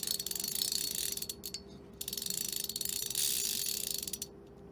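Greys Fin fly reel clicking through its ratchet drag, a dense continuous buzz of pawl clicks that surges and pauses in short bursts, close and fairly loud with no talk.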